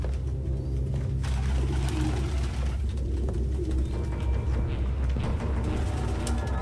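Pigeons coo in a video game scene set in a room full of birds, a steady low murmur of cooing over a constant low hum, with no talk.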